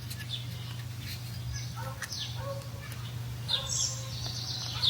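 An American robin gives a few short chirps in Ohio, light and fairly close, over a steady low hum of background noise.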